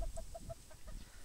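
Chickens let out of their coops cluck in a short run of soft, evenly spaced calls, with low rumbling background noise underneath.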